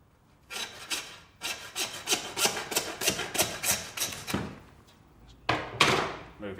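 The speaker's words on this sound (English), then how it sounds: "we saw off the main knuckle part of that bone" A hand saw cuts through the knuckle of a bone-in lamb leg in a butcher's shop, a run of quick, rhythmic rasping strokes, close and fairly loud, with a brief pause and then a few final strokes.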